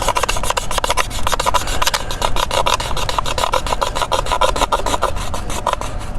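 Bamboo fire saw being rubbed hard back and forth against a bamboo piece, making a loud, continuous rhythmic rasping with rapid regular strokes, close up and steady throughout, with no speech.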